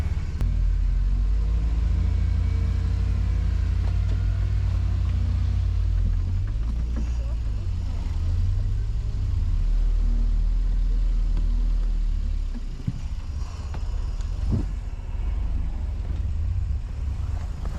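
Quad bike ATVs setting off through a forest, a loud continuous low engine rumble close by with shifts in revs and a few knocks, people talking briefly over it.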